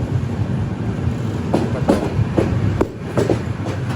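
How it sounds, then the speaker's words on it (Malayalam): A metro train runs along an elevated track overhead in Delhi, a loud rumble with rhythmic clickety-clack wheel beats about every half second, heard alone. "മെട്രോ ആണ് തോന്നുന്നു മുകളിൽ കൂടെ ഉള്ളത്."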